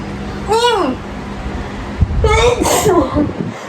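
A single sharp sneeze bursts out near the middle, amid lively close talk in an indoor podcast recording, with a short drawn-out vocal sound before it.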